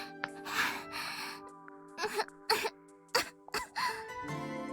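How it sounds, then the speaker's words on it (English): A girl coughs in the Evenicle 2 video game, several harsh throaty coughs in irregular bursts over a soft sustained musical tone. "Is that the same girl coughing?"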